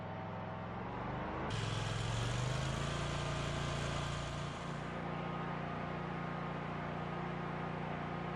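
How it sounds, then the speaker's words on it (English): A lawnmower engine runs steadily and then jumps abruptly to its high-speed setting, holding a loud, even mechanical drone close to the listener. "Start the engine and verify the high-speed setting."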